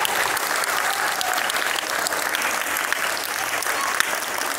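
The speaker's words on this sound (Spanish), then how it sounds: "Les doy un fuerte aplauso." School audience giving sustained applause, dense and steady clapping from a crowd filling the whole span at even loudness.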